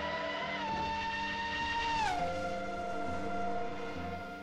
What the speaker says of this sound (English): With its raw engine sound and its very raw handling, it's one of the most fun, exciting cars on Assetto Corsa.